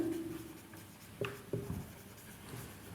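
Marker or chalk strokes write equations on a board during a math lesson, with scratchy strokes and a few sharper taps heard up close over a faint background hum.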